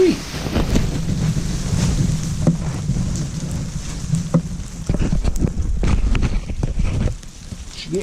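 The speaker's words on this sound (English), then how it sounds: "It's getting windy." Strong outdoor wind buffets the microphone during work on a homemade sawmill motor mount, a loud, continuous low roar with gusts that swell and then ease near the end.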